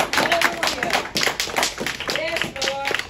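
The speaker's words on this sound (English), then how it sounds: "Let's give God a hand clap of praise." Irregular hand clapping from a church congregation praising during a service, with overlapping voices and shouts mixed through the whole stretch.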